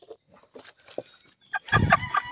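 Native chickens cluck in short, bursty calls early in the morning, a few soft ones at first, then louder, closer clucking toward the end.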